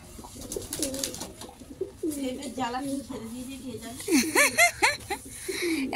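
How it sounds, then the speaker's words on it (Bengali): Pigeons cooing during rainfall in Kolkata, a flock out together, several soft rolling coos rising and falling close by, with people talking over much of it. "আজকে সব পায়রাগুলো একসঙ্গে বেরিয়েছে বলো।"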